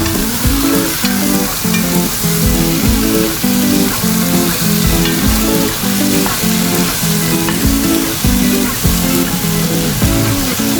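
Steady loud sizzling of chicken frying in a hot pan for Arabic marag, with occasional stirring and scraping sounds throughout, no voices.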